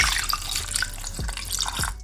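Water is poured into a pan holding raspberries, cinnamon stick and sea salt for a syrup, a close splashing trickle with a couple of soft drips before it stops.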